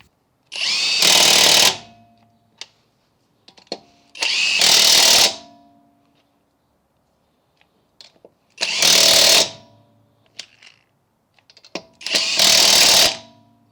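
A Hercules HCB89B 1/2 in. high torque impact wrench with extended anvil fires in four loud bursts of roughly a second each, separated by quiet gaps with faint clicks and handling noises.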